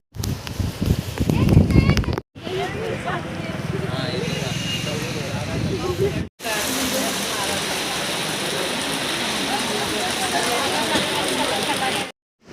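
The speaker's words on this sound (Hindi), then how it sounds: "तो बारिश ज़्यादा होने लगी थी" Heavy rain pours onto a wet road in Mumbai during the first monsoon downpour, a dense constant hiss in several stretches separated by brief cuts, with a voice speaking over the opening seconds.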